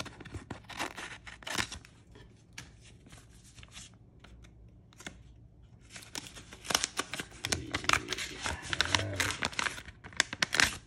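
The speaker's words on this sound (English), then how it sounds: "this one's taped up, so I'm going to have to cut it" Scissors cut through a taped-up paper envelope holding an autograph, bursts of snipping, tearing and crinkling paper close by, quieter in the middle and busier toward the end.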